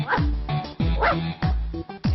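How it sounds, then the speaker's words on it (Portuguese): A pet dog barks in quick bursts, about four sharp close barks with short yelping tails in under three seconds, loud and clear. "o meu cachorro"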